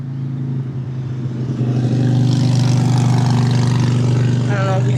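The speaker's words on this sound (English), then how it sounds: "I don't know if you can hear that motorcycle with my mic system here" A motorcycle engine drones low, growing louder and holding a steady roar as it passes nearby.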